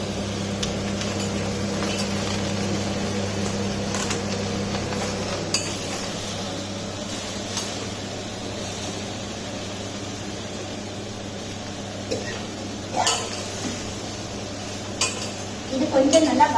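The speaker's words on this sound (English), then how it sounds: "இது கொஞ்சம் நல்லா வதக்கிக்கிறோம்." Brinjals sautéing in a pan for coconut sodhi, with soft steady sizzling and occasional clinks and scrapes of a spoon against the pan, fairly quiet and close, with no talking.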